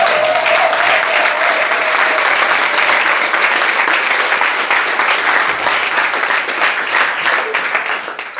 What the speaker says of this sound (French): Applaudissons pour le Père.